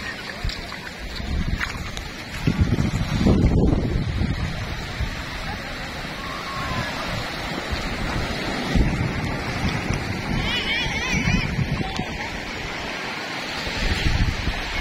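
Ocean waves roll and wash continuously at Pangandaran beach, loud and broad, mixed with heavy wind buffeting across the microphone and an occasional faint bird chirp.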